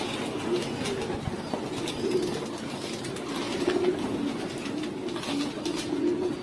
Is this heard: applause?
no